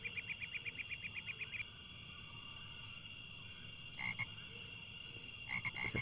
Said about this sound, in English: Okay, frogs again.